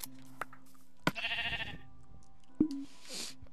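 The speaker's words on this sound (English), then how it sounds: "I got a sheep trapped in here for some reason." A sheep in the Minecraft video game bleats twice, a short wavering cry followed by a brief second bleat, mixed with sharp game clicks and thumps. No one talks.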